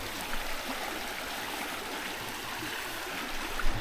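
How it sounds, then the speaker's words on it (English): Small river water flowing steadily in an outdoor setting in Africa, a continuous broadband rushing and trickling wash, fairly close and even in level throughout, with no talk. "That's how the water is, flows into this small river"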